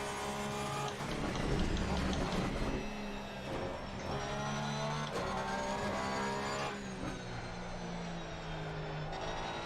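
Porsche 991ii GT3 R race engine at the Nürburgring in Assetto Corsa Competizione, a loud sustained roar rising and falling through gear changes, with tire squeal and faint speech mixed in.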